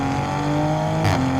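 A tuned full bolt-on 490 hp A90 Toyota Supra engine drones at steady high revs with smooth tonal harmonics, then briefly surges louder near the end before settling again, close and continuous.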